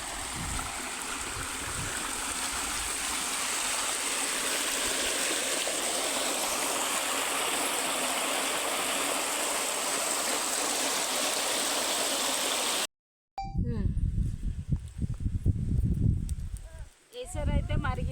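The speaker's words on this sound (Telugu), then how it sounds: "బియ్యం కడుకుంటున్నా పంపు దగ్గర" Rice being washed under a running pump outdoors near a field, with water gushing steadily and loudly, then a brief cut and closer splashing, sloshing and rubbing of grains in water.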